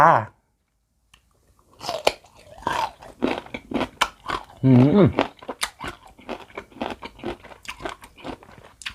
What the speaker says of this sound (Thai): เดี๋ยวเรามากินมะม่วงดองเกลือ แบบซับๆเยอะๆกันจ้า